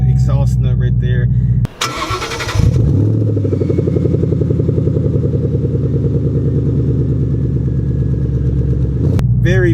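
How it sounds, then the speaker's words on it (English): A supercharged Ford Mustang Shelby GT350 cranks and fires up, then settles into a loud, deep, rumbling idle close by, with a brief clatter before the engine catches. "It definitely has a really, really nice and deep exhaust note right there."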